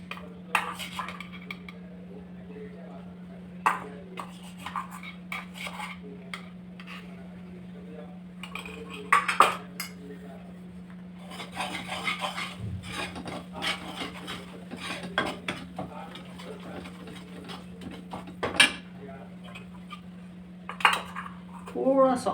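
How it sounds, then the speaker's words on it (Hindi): A spoon clinks and scrapes against a pan as gram flour goes into desi ghee, with a steady hum underneath and intermittent metallic knocks throughout. "3 टेबल स्पून बेसन डालेंगे"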